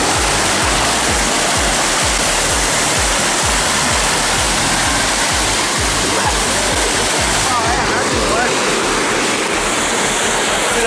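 A waterfall in the Victorian High Country pours loud and close as a steady broadband roar that fills the whole clip, with a voice briefly talking over it.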